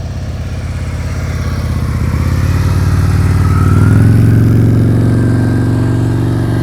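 A motorcycle engine runs steadily at low speed during slow-speed riding practice, a loud close mid-pitched rumble that rises slightly in revs partway through, with no talking.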